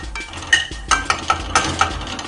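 A utensil stirs fried rice with vegetables and spring onions in a pan, giving a series of about six sharp metallic clinks in an uneven rhythm over a soft sizzling bed.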